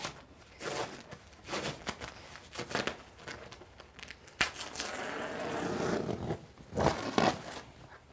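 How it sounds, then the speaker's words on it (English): Tape is pulled up off a laminated roller shade lying on a table, making short, close ripping and crackling bursts separated by pauses, with a longer tearing stretch near the middle. "And I need to lift it off the table, so I have to pull up the tape."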